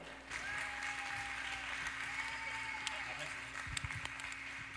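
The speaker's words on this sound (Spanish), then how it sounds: "denle un fuerte aplauso" A church congregation applauds a guest preacher, with steady dense clapping throughout, a sustained hum underneath and a few sharper claps and thumps near the end.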